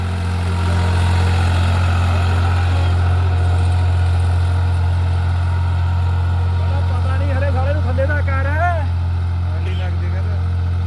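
A New Holland 3630 4x4 Super Plus tractor runs out on a farm field, its engine holding a loud, steady low drone throughout, while a voice briefly speaks over it near the end.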